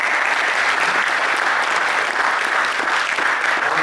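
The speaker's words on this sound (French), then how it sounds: "Je vous demanderai une bonne main d'applaudissement." Audience applause after a forestry talk at a December café-conference, steady dense clapping filling the room at full loudness without a break for the whole stretch.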